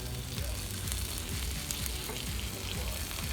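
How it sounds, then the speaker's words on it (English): Tortillas fry in red salsa in a pan for authentic Mexican enchiladas, giving a dense, steady sizzle and crackle that stays close and constant throughout, with no voices. "Once they have fried, and then they will continue to fry with the salsa in it"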